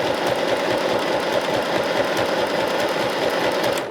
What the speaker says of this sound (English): So I'm going to go to my medium speed,